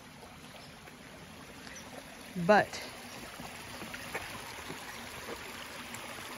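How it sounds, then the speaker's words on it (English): Lance Creek runs beside a campsite on the Appalachian Trail in Georgia with a faint, steady trickle and burble, and someone speaks a single word briefly over it. "I assume this is the creek they speak of"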